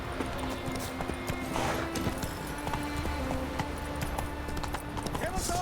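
Roach the horse gallops in The Witcher 3, with steady hoofbeats under a continuous game soundscape and someone talking over the top.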